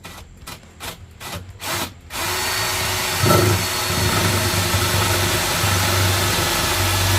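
A few short bursts of a power drill lead into a steady, loud whirring drone that runs continuously to the end, drilling while modifying a VW Golf driver's seat.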